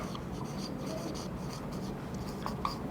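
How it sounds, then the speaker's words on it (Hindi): Writing on a board during a physics lecture on current flow through a conductor, a short, close scratchy rubbing that runs steadily for a few seconds over faint room noise. "तो हम यहां पे लिखते हैं"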